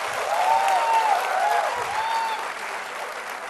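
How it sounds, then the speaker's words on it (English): Loud sustained applause from a hospitality convention audience fills the hall, thick even clapping with a few whistles on top, easing slightly in the final second. "Huge round of applause for him"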